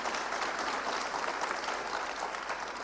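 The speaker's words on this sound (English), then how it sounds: "We can clap louder than that" A studio audience at a celebrity panel event claps steadily for about three seconds, a dense, even wash of hands with no voices rising above it.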